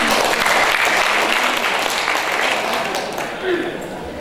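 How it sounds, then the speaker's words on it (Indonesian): Audience applause at an alumni reunion of the history faculty at Universitas Tadulako in Palu, honoring Dr. Haji Lukman Najamuddin; dense, steady clapping fills the hall, loud and continuous, with voices mixed underneath. "Tepuk tangan untuk beliau."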